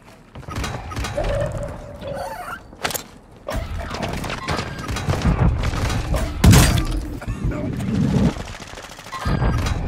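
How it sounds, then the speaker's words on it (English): Heavy video-game combat with an airstrike, packed with dense gunfire bursts, sharp shattering cracks and booming impacts that rise and fall across the whole stretch, with a voice talking underneath. "Friendly airstrike on the way."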